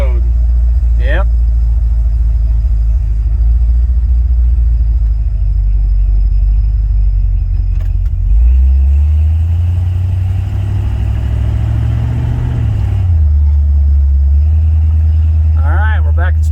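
A 1972 Chevy C20 truck cruising down a residential street, its engine a loud, steady low rumble from inside the cab that rises in pitch midway as it accelerates and then drops back.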